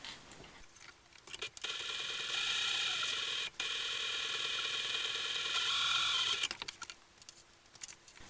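Sewing machine top stitching around the edge of a fabric crossbody bag, a steady close mechanical whir running for several seconds with a brief stop, alone without talk.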